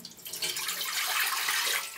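Water poured steadily into a cooking pot in a kitchen, a soft continuous splashing stream lasting a couple of seconds, close and alone.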